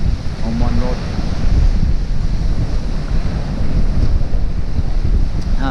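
Strong, steady wind blows across Shoreham Beach on a late June day, roaring and buffeting the microphone continuously with surf washing beneath it.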